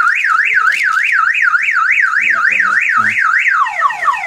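Car alarm on a Suzuki Ertiga, a loud close siren sweeping rapidly up and down in a steady warbling cycle, with a few soft clicks partway through before the tone changes to falling chirps at the end.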